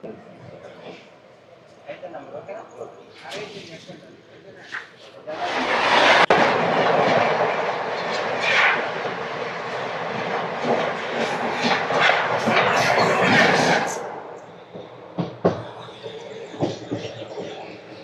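The 17219 Machilipatnam to Visakhapatnam Express rolls past close by: a quieter approach, then about nine seconds of loud, roaring wheel and coach clatter, fading back to softer rumbling and scattered clanks.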